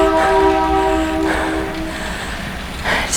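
A passing train sounds its horn during an indoor cycling workout, a sustained loud blare over rumbling noise, then fading.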